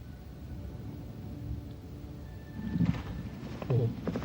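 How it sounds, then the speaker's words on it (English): Tough little Spanish mountain ponies at riding stables in a hill valley near Mojácar, Almería, with a couple of short horse calls late on over a steady ambient bed, moderately near. "The horses are tough little Spanish mountain ponies, friendly and sure-footed."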